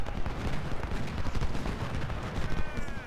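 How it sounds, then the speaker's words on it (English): Dense, continuous battle gunfire from the Civil War strategy game Ultimate General: Civil War, musket volleys and cannon blasts overlapping into a steady rumbling roar with no pauses. "so now I want you to shoot that guy there."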